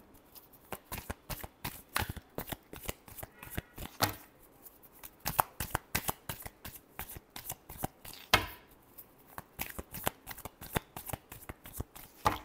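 Tarot cards are shuffled by hand near the microphone, a long run of rapid, crisp riffling flicks in an uneven rhythm, with occasional louder slaps, continuing without a break.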